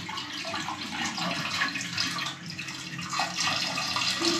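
Water poured slowly into a toilet set on a bucket, a continuous splashing, gurgling flow close by with no talk over it.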